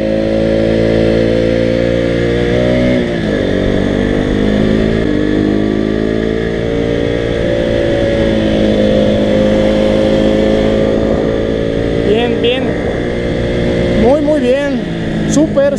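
A KTM RC 200 motorcycle engine hums steadily up close, its pitch rising and falling as the rider eases off and speeds up again through curves.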